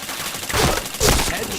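Video game gunfire rings out in two loud bursts, the second sharper and brighter, with a muffled thud between them and game noise running underneath.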